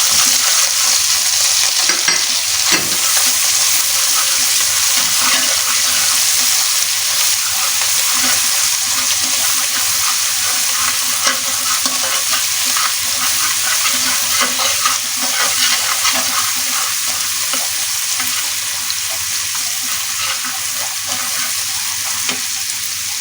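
Spices sizzle steadily in a hot pan for hilsa fish curry, a dense continuous frying hiss with faint scraping from stirring throughout.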